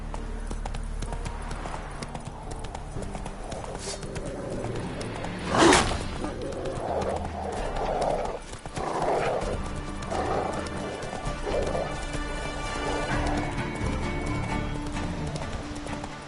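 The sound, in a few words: horse galloping in a video game, likely The Witcher 3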